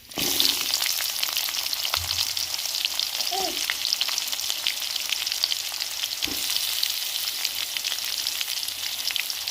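Chopped onions and curry leaves fry in hot oil, a strong, even sizzle that starts abruptly and continues steadily, with a couple of brief clinks and stirs.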